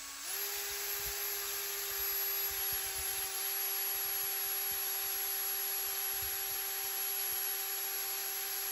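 Coarse 115 grit sandpaper grinds a bone bridge pin for an acoustic guitar, giving a steady, close, high-pitched whirring rasp that runs on without a break and sounds like a small rotary tool.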